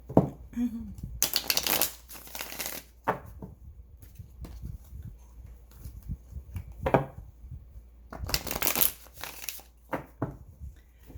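Tarot cards are shuffled in two brisk riffling bursts, close and crisp, separated by quieter handling sounds.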